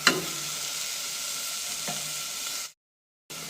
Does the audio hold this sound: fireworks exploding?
no